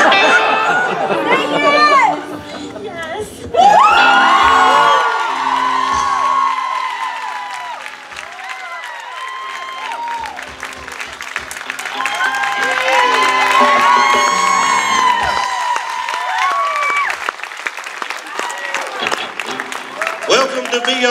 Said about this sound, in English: Let's give him a round of applause again, man.